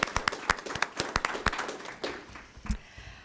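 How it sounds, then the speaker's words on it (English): A small group at a city council meeting claps briefly, with sharp, sparse hand claps that thin out and fade after a couple of seconds, heard in a quiet room. "we ought to give them a round of applause for the work"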